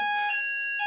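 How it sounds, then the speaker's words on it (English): An office fire alarm sounds as a loud, steady electronic tone with bright harmonics, held continuously through the whole short burst with no voices. "There's the fire alarms going off in the office."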